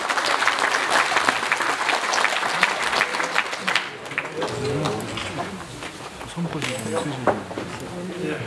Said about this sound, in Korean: 힘찬 박수로 변재일 위원님을 맞이해주시기 바랍니다